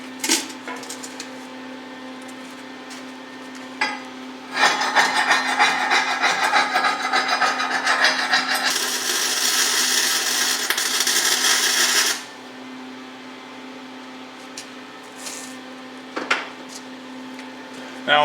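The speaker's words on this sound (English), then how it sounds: "I'm using my little MIG welder here to do the tacks" A small MIG welder tacking the corners of steel plate for a custom forge, giving a steady crackling buzz for several seconds at close range that then drops back to a low electrical hum, with no one speaking.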